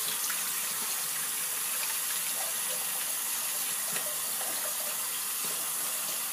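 Tap water runs steadily into a bathroom sink during a shave, a continuous, even hiss and splash that holds at a constant level for the whole stretch with no voices.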